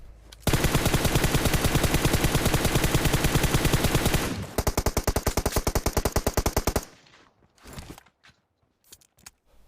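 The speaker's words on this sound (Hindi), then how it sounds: "पीछे से कोई पहाड़ से गोलियां पेलता है तो जाना ही पड़ता है" Rapid automatic gunfire in a long sustained burst in a video game, then a slower stuttering volley that trails off into a few scattered shots.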